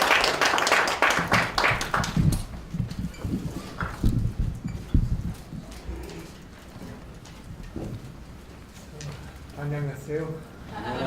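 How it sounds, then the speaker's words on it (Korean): An audience at an academic conference claps to welcome a speaker, a brief burst of scattered applause at the start that fades quickly, followed by a single voice talking. "나오실 때 우리 뜨거운 박수로 환영해 주시면 좋겠습니다"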